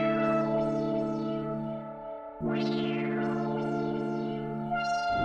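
A Trifecta synth lead on the Bezman preset plays a simple pattern of sustained chordal tones with echoing, shimmering repeats, a short dip and a bright sweeping swell halfway through, with no voices.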